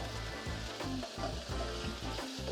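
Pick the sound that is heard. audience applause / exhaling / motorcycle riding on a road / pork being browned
pork being browned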